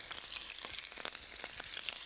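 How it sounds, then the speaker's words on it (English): Faint, steady sizzle of food frying in a non-stick pan with little oil, soft crackles and pops scattered over a quiet background hiss, with no voices. "the non-stick help a great deal in terms of frying"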